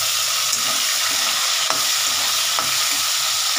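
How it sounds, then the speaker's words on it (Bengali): Diced onions hit hot oil and fry with a dense, even hiss, up close and fairly loud, with a couple of light stirring clicks and no voices. "এই তেলটার মধ্যে আমি এই পেঁয়াজটা, এই যে দেখো ডুমো ডুমো করে কেটে রেখেছিলাম, পেঁয়াজটা দিয়ে দিচ্ছি"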